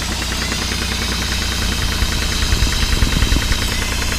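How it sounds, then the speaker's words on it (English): A steam engine running at 50 psi with a fast, even mechanical chugging rhythm under a constant loud rumble and hiss. "The steam engine is running."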